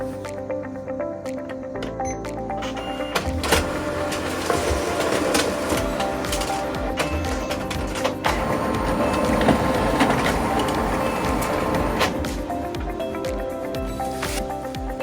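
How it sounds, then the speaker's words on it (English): An OKI MB562 printer runs its automatic document feeder, feeding and scanning sheets with a steady mechanical whir and rattle, near and continuous, with rhythmic clicks and paper movement. "Now, let's move on to the ADF speed test."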